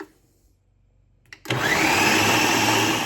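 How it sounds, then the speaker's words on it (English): Blender whirring loudly as it purees a meat-like pate spread for mini toasts, starting abruptly after a quiet moment and running steadily to the end. "now I'm supposed to blend this until it's similar to a meat pate"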